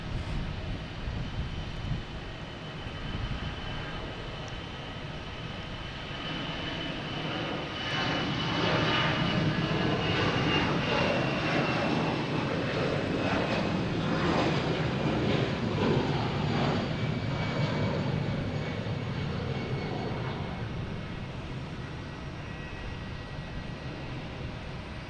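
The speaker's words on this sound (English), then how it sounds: "Now that plane had no problem taking off" An airplane taking off at Logan Airport roars steadily for about twenty-five seconds, a broad, loud engine rumble that swells in the middle and then slowly eases off, with no voices present.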